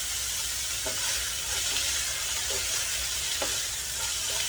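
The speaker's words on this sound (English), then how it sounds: "This is your simple stir-fry yellow soybean sprout." Yellow soybean sprouts stir-frying in roasted sesame oil: a steady loud sizzling hiss throughout, with faint scraping stirs now and then.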